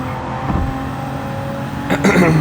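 A car accelerates in Gran Turismo 7, its engine humming steadily and then rising in pitch toward the end, with a person talking over it.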